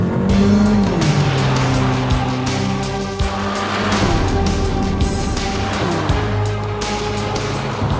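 A Mercedes A45 AMG hot hatch, the AMG-tuned small car, is driven hard, its engine droning steadily while the tyres squeal in several long, loud skids, close up and with no talk.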